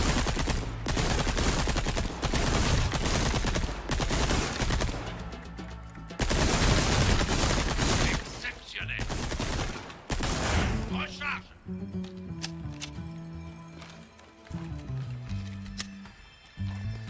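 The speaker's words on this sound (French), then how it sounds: "on tire dans le tas, les mecs" Loud, dense gunfire from the video game Resident Evil 4 Remake pours out in rapid, continuous bursts for about ten seconds, then gives way to quieter game sounds and sustained musical tones.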